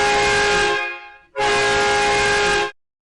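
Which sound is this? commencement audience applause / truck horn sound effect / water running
truck horn sound effect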